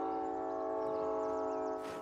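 Train in the video game Call of Duty Warzone, a steady droning horn-like tone held throughout, fairly loud and constant, ending in a brief noisy burst, no talking.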